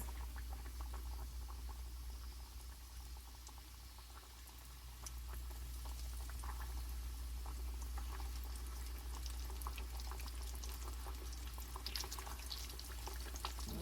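Chicken pieces, thicker cuts in a Chick-fil-A copycat recipe, frying in hot oil, giving a steady bubbling sizzle that runs throughout at moderate level with no talk.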